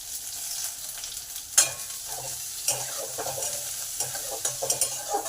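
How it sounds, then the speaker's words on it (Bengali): Onion, broken chili, cumin and ginger frying in oil in a pan, with a steady close sizzle broken by sharp clinks and scraping stirs of a utensil against the metal. "এবার আদা, পেঁয়াজ, লঙ্কা, জিরে একটু ভালো করে 1 মিনিট ভেজে নেবো"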